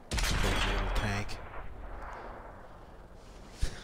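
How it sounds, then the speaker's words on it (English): A tank cannon fires in the World of Tanks video game: one loud, broad blast at the start, then a rumbling tail that fades over several seconds, with a small sharp crack near the end. "Throw a shot into the side of that Panzer 5M10."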